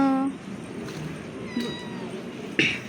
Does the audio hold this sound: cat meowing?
yes